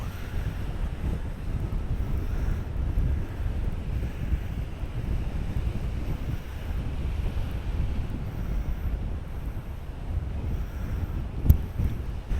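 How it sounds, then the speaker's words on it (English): Strong wind rumbles and buffets the microphone steadily at a bay on the coast of Tenerife, with a low roar like waves in the background and one brief knock near the end. "It's lovely and windy here, it's nice and cool."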